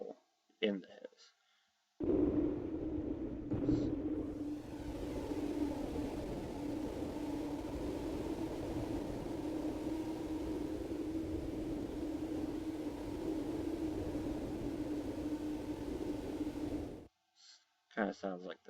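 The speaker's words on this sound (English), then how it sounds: "Kind of sounds like the pattering of rainfall." A steady hiss full of fine crackles, like pattering rain, synthesized in Native Instruments Massive, sustained for about fifteen seconds between brief bursts of electronic tones.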